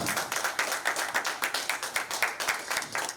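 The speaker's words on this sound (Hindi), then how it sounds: "तालियां जो हैं वो जोरदार होनी चाहिए" An audience claps in welcome at an album launch event, a dense burst of applause with rhythmic pulses, fairly close and steady, with no talking.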